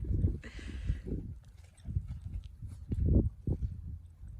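Horse hooves clop on the ground in a few uneven, soft, close thuds as a newly bought pony moves near a smaller foal; breathing and faint shuffling come between the steps.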